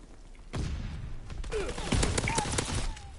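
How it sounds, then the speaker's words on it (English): A grenade blast in Call of Duty: WWII multiplayer, a loud broadband burst followed by scattered gunfire cracks and thuds, close and layered with other game noise. "Whoa, grenade, I hear grenade."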